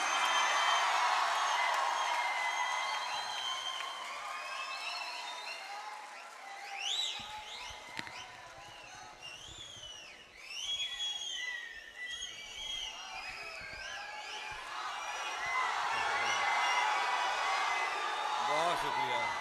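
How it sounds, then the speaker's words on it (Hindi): Audience at an Urdu poetry recital breaks into sustained applause, with sharp whistles rising over the clapping and loud cheering that swells again toward the end. "आपकी सीटियां मुझ तक पहुंच गईं और आपकी तालियां भी पहुंच गईं"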